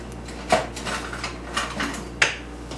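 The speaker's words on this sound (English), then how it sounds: "and you're going to stir all your ingredients" Fudge ingredients stirred with a wooden spoon, giving a few close, soft knocks and scrapes spaced unevenly over a quiet background, with no talking.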